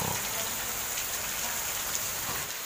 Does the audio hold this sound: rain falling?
yes